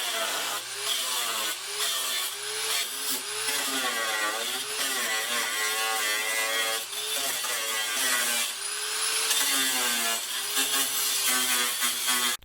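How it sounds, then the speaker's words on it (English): An angle grinder cuts into the rocker panel of a Mercury Sable station wagon, a loud continuous whine that wavers and bends in pitch as the disc bites and eases, unbroken for the whole stretch. "now we're going to take the angle grinder and cut where we marked"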